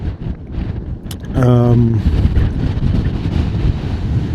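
Strong wind blows beside a lake, a steady loud rumble buffeting the microphone throughout, with a brief tonal whine partway through and no clear talk.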